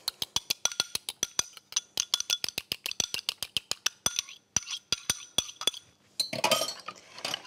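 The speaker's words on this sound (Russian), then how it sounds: "Вилочкой хорошо желток взбиваю." Fork whisking an egg yolk for a galette des rois, a rapid run of sharp metallic clinks against a bowl, steady and close, then a brief burst of broader rustling scrape at the end.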